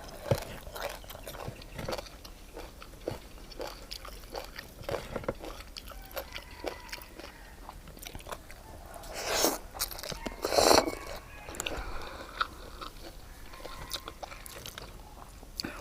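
Crunchy pork rinds being bitten and chewed close up alongside a Thai papaya salad meal, with irregular crisp crunches and a couple of louder bites near the end, under faint breathy murmurs.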